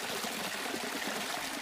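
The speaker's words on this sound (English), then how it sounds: "enjoy the sounds of a babbling cascade of" Water babbles down a cascade of small waterfalls below a bridge on a hiking trail, a steady close rushing trickle with no voices.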